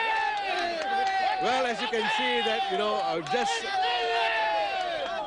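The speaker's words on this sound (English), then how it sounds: "They are cheering the victory of Ms. Lee Li Lian here at the North Vista Secondary School" A crowd of Workers' Party supporters cheers and whoops an election victory at a school by-election gathering, loud and continuous, while a reporter speaks over the noise.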